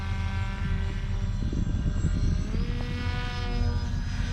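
An RC foam combat wing plane cut by CNC from pink insulation foam. Its small propeller motor gives a steady, whining buzz whose pitch bends during a close pass, with no talk.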